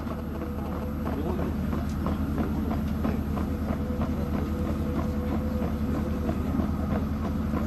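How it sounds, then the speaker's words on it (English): A towed artillery gun rolls slowly on its own auxiliary power unit toward a firing platform, giving a steady low mechanical drone with rhythmic clanking and rattling that stays even and close throughout. "The gun is now being moved away to its firing platform to demonstrate its firing."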